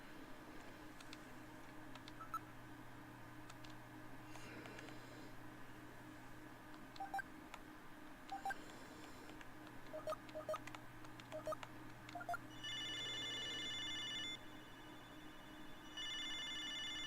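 Phone dialing tones and ringing from the video game Snatcher: irregular sparse clicks and short beeps over a steady low background hum, then two sustained bursts of electronic ringing, with no talk.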